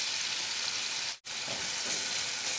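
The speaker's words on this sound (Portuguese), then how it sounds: "Vou deixar fritar bem." Garlic and onion fry in bacon fat, giving a steady, close hiss of sizzling that runs continuously, with one brief break partway through.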